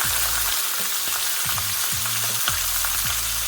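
Spareribs searing in a wide skillet give a steady, loud sizzle of hot fat, close up, with faint low hum beneath and no talk.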